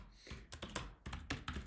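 Quick bursts of clicking keystrokes on a computer keyboard while coding, close and crisp with brief pauses between runs of typing.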